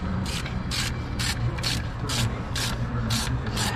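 Ratchet wrench with a 10 mm socket snugging bolts down during a 7.3 diesel injector install, giving repeated bursts of quick clicking at a steady rhythm over a constant low hum.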